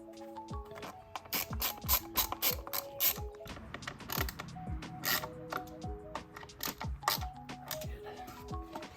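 Close ratchet clicks from tightening bolts on a Honda CBR1000RR motorcycle, with quick, rhythmic bursts of metallic pawl clicking broken by short pauses, heard alone without talk.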